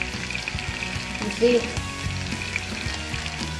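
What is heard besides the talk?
steak sizzling while being flipped in hot pan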